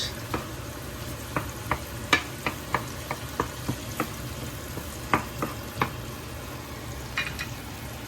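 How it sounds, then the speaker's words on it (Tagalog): Food sautéing in a pan in a busy home kitchen, a soft continuous sizzle punctuated by a dozen or so quiet scraping knocks of a spatula stirring at an irregular pace. "At dito sa kabila naman nagigisa ako mga boss."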